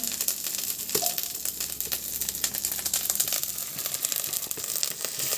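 Spices, ground ginger and Kashmiri chili powder frying in oil for a cabbage curry, making a close, steady sizzle with scraping stirs and clicks, no voices over it.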